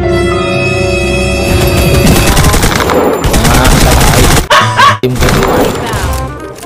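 Gunfire from a Vector in a mobile shooter game fills the clip with loud, continuous rapid bursts layered over game music and effects, then breaks into a few sharper cracks near the end.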